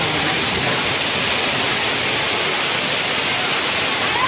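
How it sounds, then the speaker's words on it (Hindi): Very heavy stormy rain pours down in a loud, steady, unbroken wash of noise that fills the whole stretch with no voices. "बारिश भी इतनी ज़्यादा तेज़ हो रही है, बहुत ही ज़्यादा तेज़"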